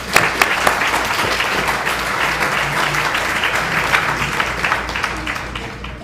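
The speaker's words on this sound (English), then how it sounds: "I think they need one more round of applause." An audience gives a round of applause, a dense, even clapping that holds steady throughout, fairly loud and close, with faint voices mixed into the crowd noise.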